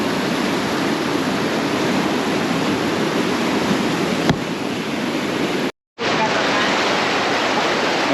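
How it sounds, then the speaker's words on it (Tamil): Kosasthalaiyar river water roars over the broken Velliyur check dam at Thamaraipakkam, a loud, steady broadband rush heard up close, with a brief dropout to silence near the end. "பாரு இவனே, தண்ணி நல்லா போயிட்டுருக்கு"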